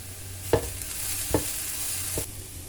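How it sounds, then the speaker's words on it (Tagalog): A spatula scrapes and tosses cauliflower fried rice in a pan, three distinct stirring strokes over a steady background sizzle, close and clear with no talk. "Halo-haloin lang talaga ang sinangag."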